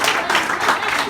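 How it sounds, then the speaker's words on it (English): A crowd applauds at a residential property auction in Westmeadows as the house is sold, a short, dense burst of clapping close at hand. "Round of applause, everyone."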